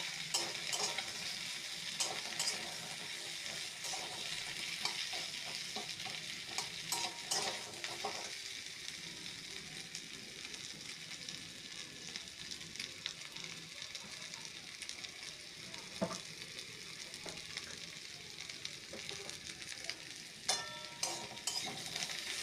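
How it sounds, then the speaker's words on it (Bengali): Potato and pointed gourd fry in a pan as they are stirred, giving a steady hiss of sizzling oil with intermittent scraping and clinking of the spatula against the pan, fairly quiet and continuous with no voices. "দেখো বন্ধুরা, আলু পটলকে এভাবেই অনেকক্ষণ ধরে নেড়ে চেড়ে ভাজা ভাজা করে একদমই বয়েল হতে একটু টাইম দিতে হবে।"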